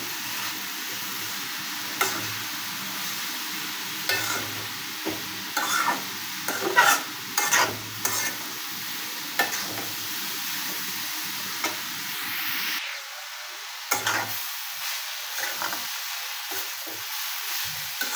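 Carrot halwa with chopped nuts being stirred in a pan, with a soft continuous sizzle and intermittent spoon scrapes and knocks, fairly close, without talk.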